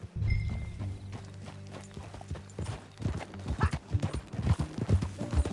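Horse hooves clip-clop in a PS4 video game, a rhythmic run of hoofbeats that grows quicker and louder toward the end, with a whinny-like tone early on.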